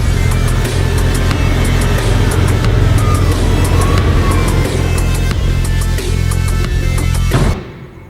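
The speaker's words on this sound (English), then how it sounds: "I'm just gonna go up and down this road a couple times and make sure it's not gonna overheat." A 1997 Ford Probe GT cruising down a road, its engine and road noise a loud, steady drone with tyre roar throughout, fading out abruptly near the end.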